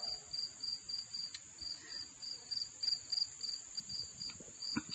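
Crickets chirping in a quiet rural setting near a barn, a steady high pulsing trill repeating evenly throughout, faint and ambient with no voices.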